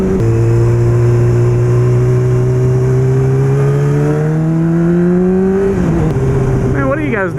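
A Honda Grom motorcycle engine hums loud and close, its pitch climbing steadily through a long rev before dropping off and wavering near the end.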